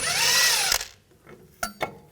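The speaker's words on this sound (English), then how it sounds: "Use a 18mm socket, take that nut off" An 18mm socket wrench turns loose a sway bar link nut on a 2010-2014 Volkswagen GTI while locking pliers hold the stud, a loud rapid ratcheting burst followed by a few short metallic clicks and taps.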